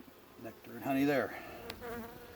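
Honey bees buzz close by while a hive is opened for inspection, with brood frames and stored nectar exposed; a steady droning hum swells louder through the middle and then eases back, with no voices.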